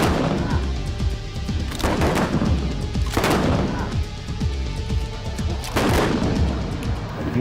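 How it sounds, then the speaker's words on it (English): Guns firing in a continuous barrage of heavy booming shots, several strong reports standing out over dense rumbling gunfire throughout, loud and close, with no talking. "The gun they're firing."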